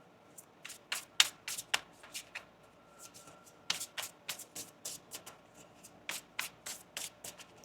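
Crisp riffle-and-snap bursts of tarot cards being shuffled by hand, repeated in quick rhythmic flurries, close and quiet with no talking.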